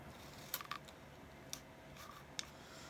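Scissors snip at a cardboard toilet paper roll in a few sharp, quiet clicks spaced about a second apart over a faint, hushed room background.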